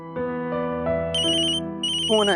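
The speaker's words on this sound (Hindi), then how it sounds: "फोन है।" A phone plays a melodic electronic ringtone, loud and close, with clear sustained tones stepping through a tune that rises into higher chimes.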